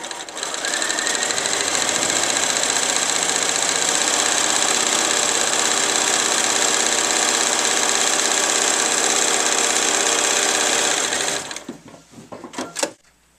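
A sewing machine fitted with a hemstitch foot runs continuously as it stitches a straight patchwork seam, a steady close whirring hum that stops abruptly near the end, followed by a few clicks.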